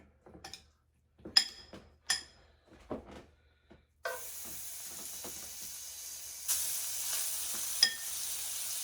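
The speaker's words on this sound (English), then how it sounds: "And then we're going to start adding our shrimp to it." Shrimp laid one by one into a hot oiled pan, a few sharp crackles and taps giving way to a continuous bright sizzle that grows louder as more shrimp go in.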